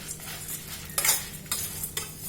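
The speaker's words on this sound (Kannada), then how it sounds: "ಈಗ ನಾನು ಗಸಗಸೆ ಹಾಕ್ತಾ ಇದ್ದೀನಿ." Poppy seeds going into a pan and being stirred, soft scraping strokes with a few sharper rattling bursts over a gentle sizzle, close and moderately quiet, no voices.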